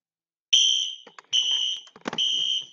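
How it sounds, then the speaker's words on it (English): A fire alarm sounds in bursts of a loud, piercing electronic tone, with short gaps and a brief burst of noise partway through, and no talk over it. "That's a fire alarm."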